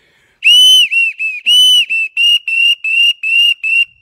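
An adjustable duck whistle call for teal: sharp, high-pitched, repeated in quick, clipped peeps, about ten short bursts in a steady rhythm, loud and close.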